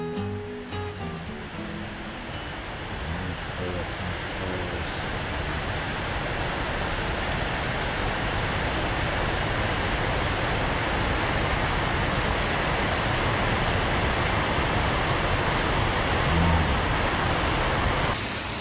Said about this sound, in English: the waterfalls are just awesomely awesome